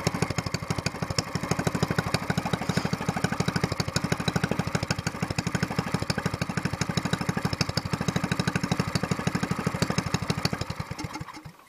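A small SPS longtail boat engine runs steadily at a fast idle with a dense, even chugging pulse, loud and close, winding down and cutting off near the end.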